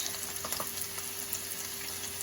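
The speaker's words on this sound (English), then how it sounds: "my pasta water is boiling" Pasta water boils in a pot on the stove, a steady bubbling hiss with faint pops and clicks, continuous and fairly quiet with no talking.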